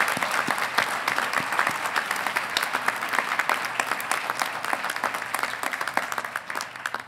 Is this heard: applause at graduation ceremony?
yes